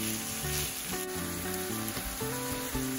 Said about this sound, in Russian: Перемешиваем фарш так, чтобы размешать хорошо-хорошо все комочки.